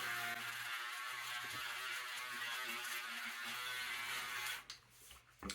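A Braun Series 3 electric shaver buzzes steadily against a face, with a continuous close-up motor whir and textured cutting rasp before the sound drops away near the end.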